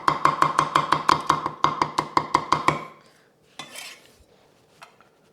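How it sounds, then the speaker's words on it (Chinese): Rapid chopping of garlic with a cleaver, crushed then minced, about a dozen sharp, evenly spaced knocks on a board for three seconds, then a brief scrape and quiet, with no talking. "1粒的蒜头，拍散，切末"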